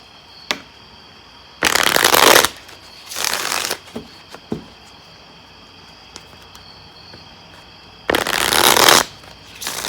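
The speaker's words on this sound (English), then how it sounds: "Let me give it a good shuffle here." Rider-Waite tarot cards shuffled by hand in three bursts of dense riffling, close and fairly loud, separated by quiet gaps with a few faint taps.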